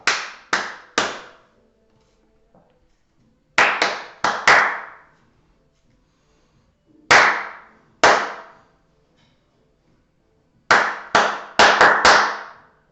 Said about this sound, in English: every other rhythm you're going to clap back to me